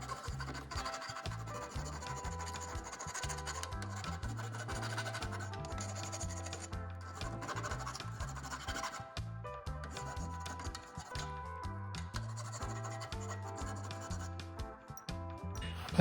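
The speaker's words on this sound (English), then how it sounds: "I'll use the file to do it." A metal file rasps steadily across the sharp cut edge of a metal tube being deburred for a camper bumper-mount clothesline, with continuous close scraping strokes over a persistent low background tone.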